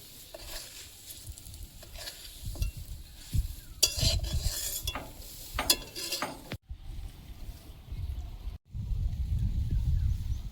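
Bitter gourd fries in a pan, a soft sizzle broken by stirring scrapes and clinks of a utensil against the pan, heard close with no talking.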